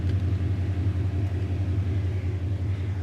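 A 2019 Ford Mustang GT creeping slowly up onto ramps during an oil change, its V8 idling in a steady, deep rumble close by with no revving.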